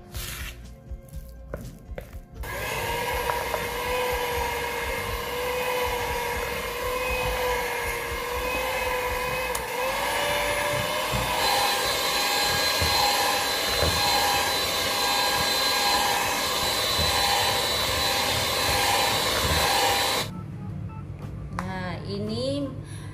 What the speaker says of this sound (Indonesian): Ini margarin sudah dikocok kembang